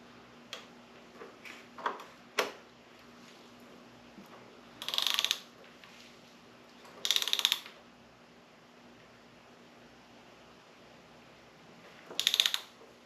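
Faint clicks and short ratcheting bursts from a mechanism on a 1936 Austin 7 being rebuilt, a few soft ticks followed by three brief rasping clicks spaced several seconds apart in a quiet room.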